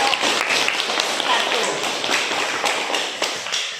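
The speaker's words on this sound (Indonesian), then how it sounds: "kita tepuk tangan dulu untuk kelompok 1" Classmates clapping together for a student group in a classroom, a dense, steady patter of many hands sustained throughout at moderate loudness with no talk over it.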